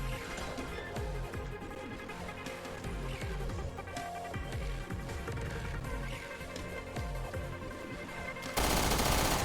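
Gunfire in Resident Evil Revelations 2, rapid loud repeated shots in a dense rattling stream over game sound, ending in a sudden burst of noise.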